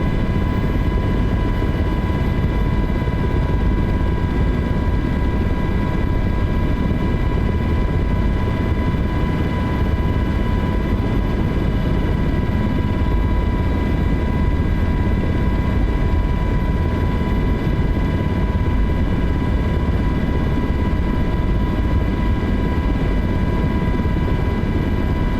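A Miltech MH-60T helicopter in Microsoft Flight Simulator 2024 drones steadily for the whole stretch, with a loud, constant rotor and turbine roar layered with sustained engine whine tones, no talk over it.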